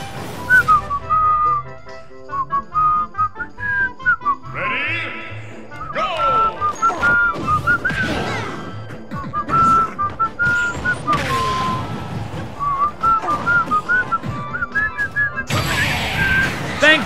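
A person whistles a melodic tune in steady bursts, close and fairly loud, over video game music and crashing, explosive Super Smash Bros. Ultimate battle effects, with speech mixed in at times.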